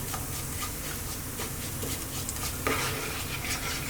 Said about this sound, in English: we get our cumin seeds in. Now what we want to do, just for a few seconds, is let them do their thing in that hot oil